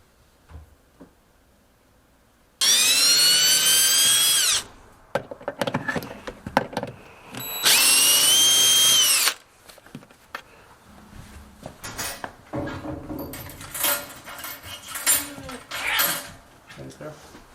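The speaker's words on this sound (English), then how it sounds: "I'm going to route it out and try to get this on and lower it down" A router cutting a recess for a door latch plate in a barn, two loud sustained whining bursts of a few seconds each, followed by clattering, tapping and handling of tools and hardware up close.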